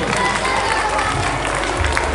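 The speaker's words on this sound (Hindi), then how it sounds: "जोरदार तालियों से स्वागत करें।" An audience at a school gathering breaks into applause, a dense burst of clapping with crowd noise close by, over a low rumble.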